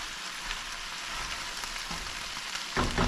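Okra frying in a pan gives a soft, steady sizzle. Stirring adds a few light scrapes, and a louder stir lands near the end, with no voices.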